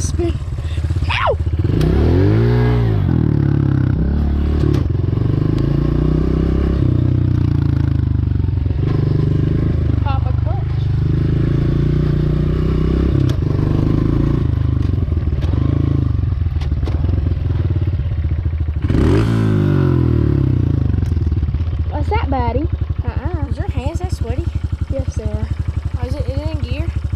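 A motorcycle engine revs and chugs loudly up close while a learner rider works the clutch, the pitch rising and dipping unevenly, with people talking over it.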